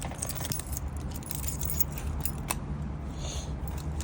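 Motorcycle keys jangle and clink close by for several seconds while a lock is being tested, a busy metallic rattle over low engine-like rumble from a car nearby.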